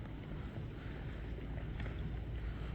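A boat moving across the water near an airport in Norway, a steady, faint rumbling wash with wind noise on the microphone and no clear breaks.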